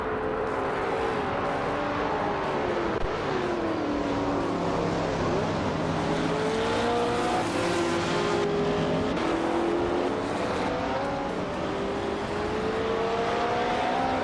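Race cars in a video game race roar continuously, engines rising and falling through gear changes as several cars run close together, loud and alone without voices.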